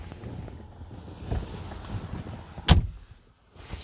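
A 2009 Chevy Malibu door swings shut with one sharp, solid thud close to the microphone after some rustling and light wind noise.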